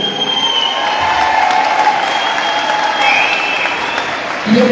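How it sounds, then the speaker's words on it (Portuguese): A crowd at a political debate event in Rio de Janeiro breaks into loud, sustained applause for Verônica Lima, with cheers and whistles mixed in over continuous clapping. "E eu queria também uma salva de palmas para a Verônica Lima."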